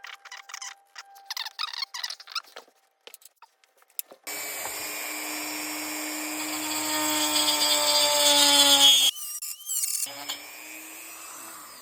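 Hand trimming of a 1/18 BBI F-16 model part, starting with choppy scraping and cutting strokes, then a steady whining rotary tool that rises in pitch and loudness before cutting out, followed by more short bursts; close and loud, no talking.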